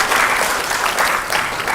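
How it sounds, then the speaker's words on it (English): Audience applause at a college event for parents and first-year students, a dense, loud, sustained clapping filling the hall without pause. "A round of applause to all the parents and first year students"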